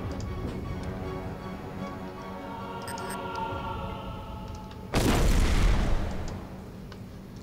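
Steady ticking and mechanical background in Hitman: Blood Money, then a sudden loud explosion booms near the end, with a rumbling burst that fades over a second or so.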